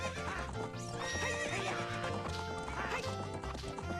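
Epona, a horse in Ocarina of Time, neighs and whinnies loudly and close by, with hoofbeats clip-clopping under game music.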